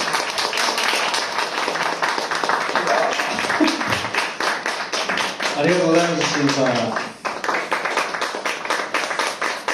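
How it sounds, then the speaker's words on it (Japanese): Audience clapping after a live music performance, rapid dense handclaps running throughout with a voice speaking over the middle and a brief lull before the clapping resumes. "皆さんもう一度エスタケさんに大きな拍手を。"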